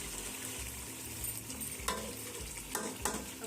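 Biryani masala sizzles and fries in hot oil in a pan, with a continuous crackling hiss and a few sharp clicks and scrapes of a spoon stirring through it.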